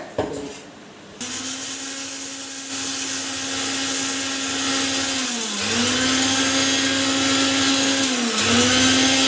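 A kitchen mixer grinder whirs loudly as it grinds fenugreek seeds into powder. It starts abruptly and runs as a steady high-pitched motor whine, and its pitch dips briefly twice as the load shifts.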